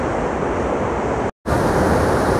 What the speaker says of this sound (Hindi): ये देखो बिल्कुल पास से ये नदी जा रही है, बिल्कुल प्रेशर काफ़ी तेज़ है